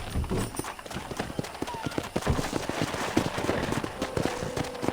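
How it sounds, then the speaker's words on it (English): Rapid hoofbeats of galloping wild horses pounding steadily, with a brief whinny and a background voice mixed in, in the video game Red Dead Redemption. "there's a pack of wild horses nearby"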